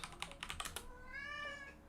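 A cat meows once, a long drawn-out call rising and falling, right after a burst of computer keyboard typing in a quiet room during a Call of Dragons game session; no talking.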